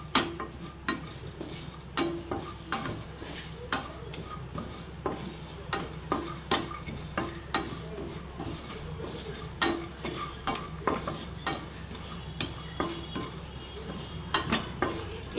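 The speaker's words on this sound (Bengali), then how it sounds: "দিয়ে আমি ভালোভাবে এটাকে ড্রাই রোস্ট করে নেব" Whole spices dry roasting on a hot tawa, with rhythmic scraping and tapping of a spatula against the pan over a faint crackle, steady strokes repeating throughout.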